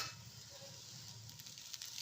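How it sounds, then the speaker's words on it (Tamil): Potato cutlets frying in oil, a steady, quiet sizzle with soft crackles throughout. "நல்லா பொறுமையாக இந்த மாதிரி திருப்பி போட்டு கோல்டன் ப்ரௌன் ஆற அளவுக்கு 2 பக்கமும் வேக விடுங்க."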